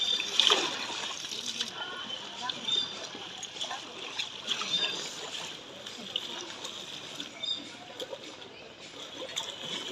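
Water splashing and sloshing as someone bathes in the Ganges river, a steady watery wash with scattered splashes beneath nearby voices.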